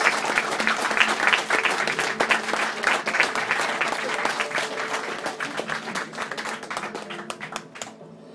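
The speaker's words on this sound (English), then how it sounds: "A big round of applause for Paul" Enthusiastic audience applause for Paul, a volunteer at a comedy hypnosis show at the Flying Beaver Pubaret, dense sharp clapping with distinct individual claps that carries on for several seconds before fading out abruptly.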